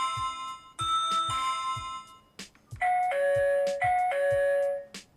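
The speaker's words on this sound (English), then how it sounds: "Anyone who pressed the doorbell would also have their picture taken." A peephole camera doorbell plays its electronic chime in two rounds of clear ding-dong tones, loud and close, with soft clicks from the button presses and no talking.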